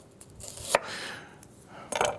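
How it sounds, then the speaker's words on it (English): A knife slices a fresh onion thin on a cutting board in a home kitchen, with two or three crisp, quiet chopping strikes spaced apart over faint background noise. "we're going to take about 3/4 of a fresh onion, and we're going to slice it relatively thin"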